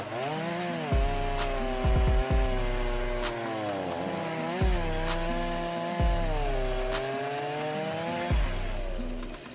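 A high-speed chainsaw cuts wood at a sawmill, its engine droning loud and steady throughout with rising and falling pitch as it bites into the timber, sharp knocks punctuating the cuts.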